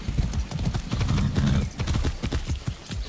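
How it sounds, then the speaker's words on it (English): Rapid hoof clopping from a horse in Far Cry 6, steady and close, with dense rhythmic thuds running throughout. "That's a good horse."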